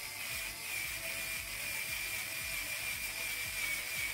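An electric nail drill used on acrylic nails whirs steadily with a high, constant whine and a faint rhythmic ticking, close and alone without talk.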